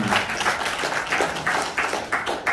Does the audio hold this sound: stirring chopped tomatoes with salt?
no